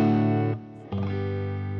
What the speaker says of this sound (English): go to the clean channel, and turn my guitar up to about seven or eight